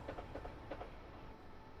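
A train in a train simulator game, running on the London to Brighton line, gives a steady low rumble with faint rhythmic clicks near the start, quiet and continuous, with no talk.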